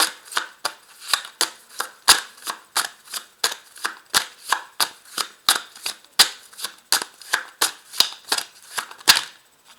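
Tarot cards are shuffled for a card reading, making a rapid, even series of sharp, crisp snaps and flicks up close, with no talking.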